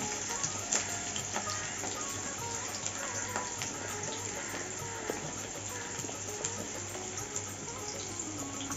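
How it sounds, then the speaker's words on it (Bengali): Potatoes and carrots sizzle in hot oil for a Bengali labra vegetable curry, giving a steady, faint crackling hiss with small pops scattered throughout. "আলু আর গাজর একসঙ্গে ভেজে নিচ্ছি"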